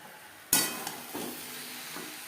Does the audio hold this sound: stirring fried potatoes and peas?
yes